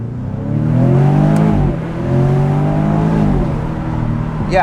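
A 2021 Jaguar F-Type engine revs hard in long rising pulls, loud and close, its pitch climbing then dropping between gear changes.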